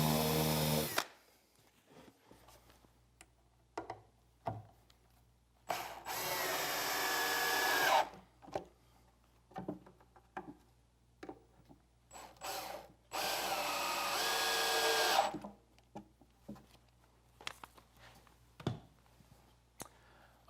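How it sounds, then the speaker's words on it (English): A power drill bores pilot holes and counterbores in a wooden bench top, with two long loud whirring bursts and several short drill runs, separated by quiet pauses and clicks of handling. "Then I'll flip the top over, complete the pilot hole, and drill the counterbores to allow the screws to be set below the surface."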